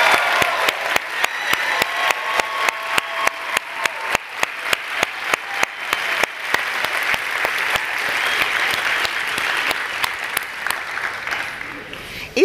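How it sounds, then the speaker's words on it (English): An audience at an education awards ceremony breaks into sustained applause, with sharp, regular claps standing out over the steady wash of many hands for the whole stretch. "Now you may applaud."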